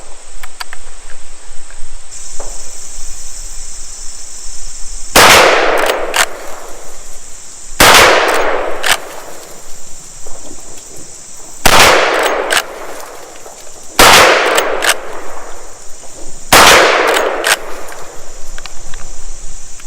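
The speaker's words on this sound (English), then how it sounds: "I'm going to be shooting standing offhand at about 40 yards" Marlin 1894CP carbine fired offhand at about 40 yards: five loud, sharp rifle shots spaced roughly three seconds apart, each with a short echoing tail, over a steady background of insects chirping.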